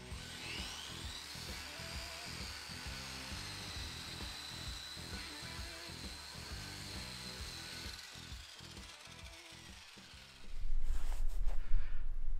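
Eastwood Contour SCT surface conditioning tool grinding metal, a steady high-pitched motor whine with rhythmic pulsing for about ten seconds, then a louder rough burst as the tool bites in at the end.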